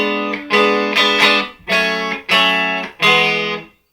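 Electric guitar with distortion strumming a diminished chord in rock style, five loud ringing chord hits with short gaps, close and unaccompanied.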